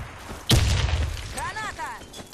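In a video game, a grenade goes off as a loud burst about halfway through and is followed by a rumbling tail. A second sharp pop comes at the very end, with voices and radio chatter around it.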